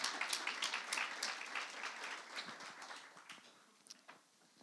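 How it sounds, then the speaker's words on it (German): A church congregation at a gospel service claps together in a lively burst that gradually thins and fades, with a few scattered claps lingering at the end. "Ein Applaus für den Herrn, für dein Leben"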